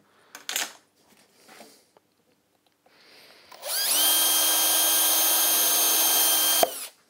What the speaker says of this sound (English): Reason for drilling them first, we can then clean the fluff out off that drill.